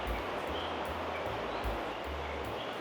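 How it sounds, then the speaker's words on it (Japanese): A river stream flows below a wooden deck at a hot spring mountain lodge in Togatta Onsen, Miyagi, giving a steady, continuous babbling wash with low rumbling pulses throughout, no voices present. "下にはね川が流れてまして、川のね流れる音、せせらぎが聞こえまして、"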